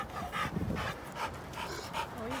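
A small energetic dog pants close by in quick, rhythmic breaths, with a faint whimper-like note mixed into the steady huffing.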